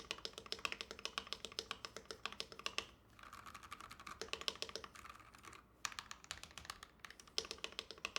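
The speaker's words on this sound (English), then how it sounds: "One more typing test for you guys." Quick, steady typing on a Gentoo 65% mechanical keyboard fitted with PBT keycaps, fairly quiet, close clicks and clacks with a couple of brief pauses, no talking.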